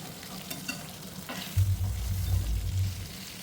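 Chicken pieces sizzle in oil on a flat pan, a soft steady frying crackle that swells midway with stirring or turning and continues without talk.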